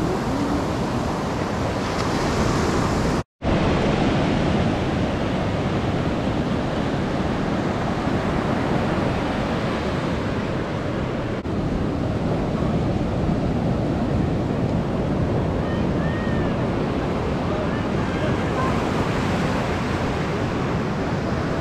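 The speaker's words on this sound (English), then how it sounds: "Super cool waves." Ocean surf at Cannon Beach, Oregon, near Haystack Rock, rolls in a continuous roar with wind buffeting the microphone, broad and steady, broken by one brief dropout near the start.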